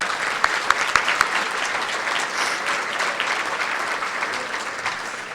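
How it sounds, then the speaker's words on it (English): An audience at a county state-of-the-county address breaks into steady, dense applause, a sustained wash of clapping with a few sharper claps near the start and no speech. "I think that certainly deserves another round of applause"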